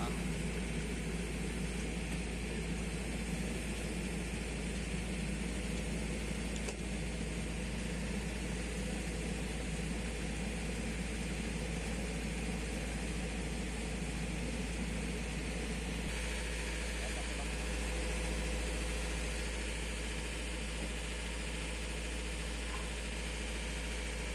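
Passenger express ferry on the Dumai Line, docking at a port pier, with its engine running as a steady, loud low rumble and broadband drone throughout, unbroken and close, with faint voices underneath.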